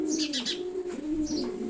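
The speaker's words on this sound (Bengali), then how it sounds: "রেড চেকার কবুতর জোড়া" A pair of red checker racing pigeons coo close by in low, throaty rolling calls, with a few brief chirps and soft rustling in between.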